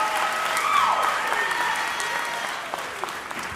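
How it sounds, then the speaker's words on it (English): Audience applause fills a hall at an oratory competition's grand championship, steady dense clapping that holds loud and then slowly thins and fades, with a few isolated claps near the end. "one more round of applause for your 2023"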